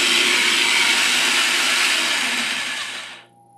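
An electric chopper whirs loudly and steadily while chopping guacamole ingredients in a home kitchen, running for about three seconds before cutting off abruptly into quiet.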